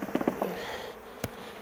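Bees shaken from a frame into a small nucleus hive box make a brief, close buzz with a few sharp taps and bumps at the start and a thud near the end, all over a low hum.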